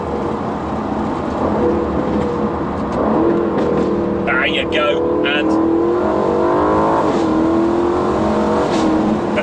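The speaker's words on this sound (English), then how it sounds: "you get these delicious cracks on upshift. You get a big kind of overrun of popples and bangs" Aston Martin Vantage engine revving hard under talk, with sharp cracks on upshift and a burst of popping and banging on the overrun, loud and close from inside the cabin.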